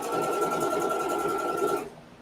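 A sewing machine stitching a quilt block runs in a fast, steady whirring rhythm close by, then stops abruptly near the end.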